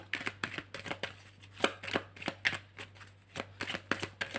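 Playing cards being handled and flipped at a card table: a rapid run of crisp, close slaps and riffles in irregular bursts, with a steady low hum underneath and no talk.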